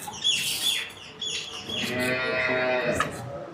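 A cow moos at a cattle farm where cows are for sale, a long drawn-out low call that rises and holds, fairly close and loud with no talk over it.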